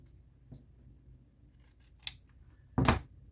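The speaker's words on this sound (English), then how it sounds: "I'm just going to cut a few slits." Scissors cut a few slits, making several sparse, crisp snips in a quiet room, with the final snip the loudest.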